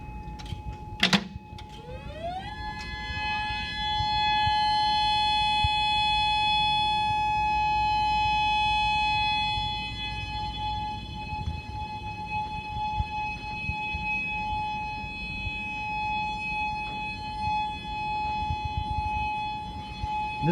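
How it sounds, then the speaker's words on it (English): A tornado warning siren sounds a loud steady tone inside the Federal Signal facility in University Park, Illinois, its pitch climbing at start-up and then holding a sustained wail, with a few clicks and no voices. "I'm going to activate the tornado sirens."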